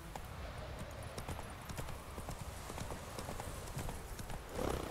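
Hooves of Roach, the horse in the video game Witcher 3, clatter in a steady galloping clip-clop rhythm, fairly quiet, with a brief whinny-like swell near the end.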